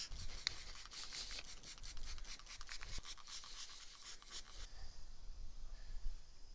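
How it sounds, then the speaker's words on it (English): Wet sanding of an oxidized plastic car headlight with 2500 grit sandpaper: a rapid back-and-forth rubbing scrape, close and steady for several seconds, then stopping into quiet background, no talk. "And now we'll do our final sand for the day with the 2500."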